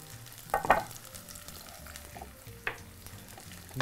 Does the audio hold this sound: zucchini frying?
yes